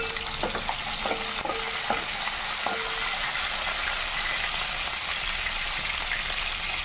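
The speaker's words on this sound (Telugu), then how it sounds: "రెండు ఎండుమిర్చి వేసుకోవాలి ఇవి బాగా వేపించుకోవాలి" Two dried red chillies fry in hot oil in a pan with curry leaves and green chillies, a steady soft sizzle with a few light stirring clicks near the start.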